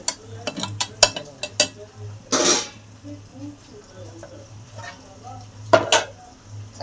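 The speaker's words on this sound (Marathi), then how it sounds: "तर आपण जे शेंगदाणे हिरवी मिरचीचं वाटण केलं ते टाकून घेऊ. ते मस्त आपण यात परतून घेऊ मसाल्यात." Peanut and green chilli paste stirred into frying masala in a pan for sabudana khichdi, with scattered clanks and scrapes of a spoon against the pot, one longer rasping scrape, over a low steady hum.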